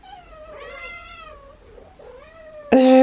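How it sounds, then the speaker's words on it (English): Several house cats meowing close by, two drawn-out wavering meows one after another, then a sudden loud clatter at the end. "I have like 3 cats meowing at me right now."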